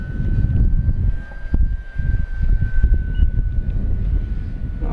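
A BlitzRC Mk24 Supermarine Spitfire 1100mm model airplane on 4S power flies at about quarter throttle, giving a steady electric motor whine and a thin high tone over heavy, gusty wind rumble on the microphone.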